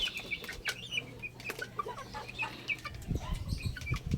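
Black Sniper gamefowl cluck in a farmyard, a few soft close clucks and scattered chirps over low background noise, with occasional wing rustles and no talking.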